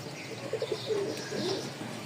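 Rajshahi high-flying pigeons coo softly, a few short throaty notes followed by a longer coo, fairly faint against a quiet indoor background.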